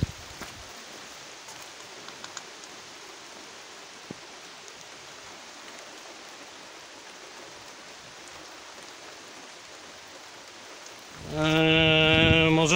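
Steady rain hisses outdoors at Bierzgłowo Castle, a continuous even wash of drops on surfaces, before a louder tonal sound breaks in at the very end.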